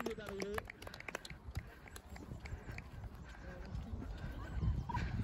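A horse galloping on a cross-country eventing course, hoofbeats thudding rapidly under excited talking and exclamations from the rider, with breathing and wind noise close to the microphone.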